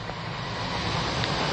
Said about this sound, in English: Train going by there.